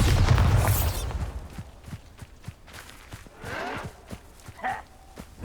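A Bombarda spell blast in Hogwarts Legacy, cast during a Merlin trial, opens with a deep, heavy boom that rumbles and fades within a second, followed by a steady run of soft footsteps and faint scattered rustles.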